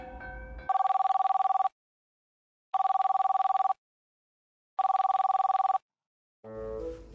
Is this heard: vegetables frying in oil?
no